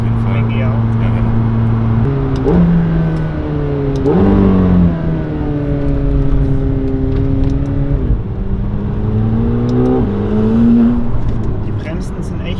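A McLaren 720S Stage 2 accelerates hard in fourth gear, its engine droning loudly and climbing steadily in pitch with brief dips at shifts, heard from inside the car with road rumble underneath.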